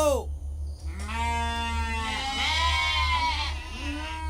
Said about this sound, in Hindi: जल्दी से दीपक जलाकर भेड़ों को हाँक कर ले चलो।